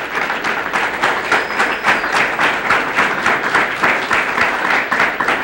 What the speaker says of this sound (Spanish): Vamos a darle un buen aplauso.